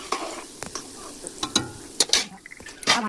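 Hot oil frying while sesame laddoos are made in a village kitchen, irregular bursts of sizzling and crackling with clattering of a utensil against the pan, close and uneven.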